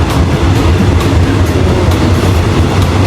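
A metro train runs at speed, with a loud, steady rumbling roar and rhythmic rail clatter heard from inside the carriage, no voices.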